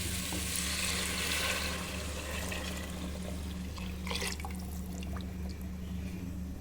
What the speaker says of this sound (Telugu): మటన్ ఉడకబెట్టుకున్న నీళ్ళు వేసేద్దాం